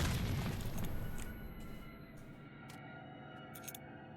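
A grenade goes off in STALKER: Shadow of Chernobyl, a loud close boom with a rumbling low tail that fades over about a second, leaving ambient game noise and a few faint clicks behind.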